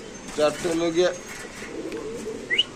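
Pigeons for sale at a bird market coo in soft repeated calls close by, mixed with the murmur of people talking nearby.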